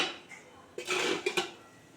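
A metal lid is lifted off a pan of pumpkin frying on a low gas flame, a short clatter and scrape followed by a couple of light clinks, close and fairly quiet.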